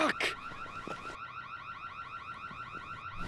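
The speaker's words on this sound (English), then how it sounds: "I think we set off the alarms." A car alarm blares with a steady repeating warble, loud and close, after a couple of sharp bangs at the start, with no talk over it.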